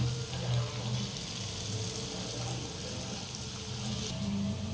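Pearl millet fritter batter hits hot oil in a home kitchen pan, giving a faint, steady, even hiss of sizzling throughout, with no voices.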